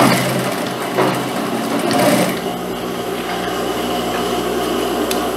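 A sewing machine stitches a short second section of seam on a sports-collar jacket, its steady motor whir running continuously and close without a break.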